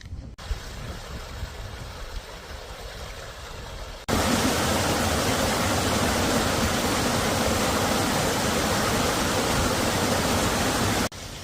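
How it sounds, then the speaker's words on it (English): Rushing water of a waterfall, a dense broadband roar that grows suddenly louder and stays steady for several seconds, with no voices. "You gotta love a waterfall, haven't you?"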